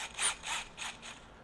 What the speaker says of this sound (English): and you hear the ratcheting chuck